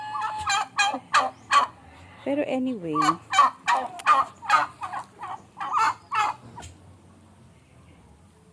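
Loud, rapid turkey gobbles in repeated bursts close by on a poultry farm, with a few brief spoken words near the start and the end.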